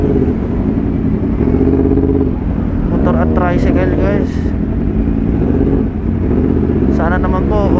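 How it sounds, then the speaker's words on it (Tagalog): Motorcycles and motorized tricycles pass on a road, a steady loud engine drone with rising and falling revs as vehicles go by, under ongoing conversation. "Motor at tricycle guys."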